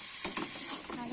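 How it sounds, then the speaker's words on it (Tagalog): Pork sinigang ingredients sautéing in a pan, a steady faint sizzle with two brief stirring scrapes near the start. "Sapiin muna natin siya para masarap."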